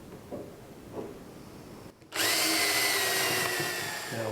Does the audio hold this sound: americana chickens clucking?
no